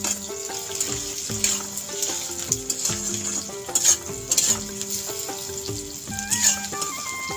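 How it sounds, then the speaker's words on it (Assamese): Chopped onions sizzle steadily in a hot pan as they are stir-fried, with scraping stirring noises over a tonal background melody. "এতিয়া মই পিঁয়াজখিনি বহাই দিলোঁ, দি আছোঁ।"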